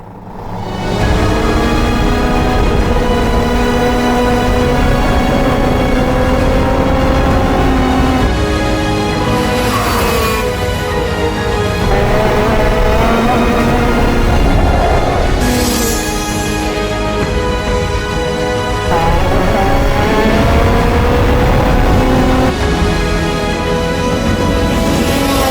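A senior-category FIA racing kart engine on prime tires drones loud and continuous for the whole stretch, its pitch rising and falling as the revs change, with no voices.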